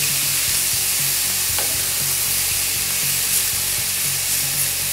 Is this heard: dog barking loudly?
no